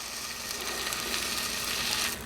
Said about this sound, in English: And I would fry it